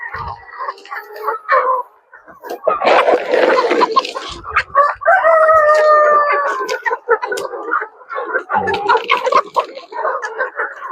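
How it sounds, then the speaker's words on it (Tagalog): Chickens cluck and squawk in a noisy flurry, with a rooster crowing loudly in the middle, close by, and a person talking intermittently. "Kakagulo ating mga manok."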